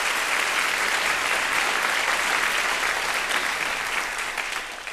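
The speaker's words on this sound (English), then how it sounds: "Yes, clap for that, please." An audience claps steadily for several seconds, a full wash of applause that tapers slightly toward the end.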